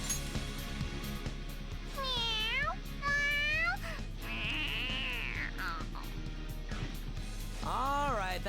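Morgana the cat from Persona 5 Royal meows repeatedly, a string of wavering, close mews over steady game music, with a few gaps between calls.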